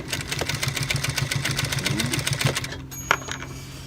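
A sewing machine stitches a jeans hem in a fast, steady mechanical whir with a regular needle rhythm, running close by and then stopping with a small click.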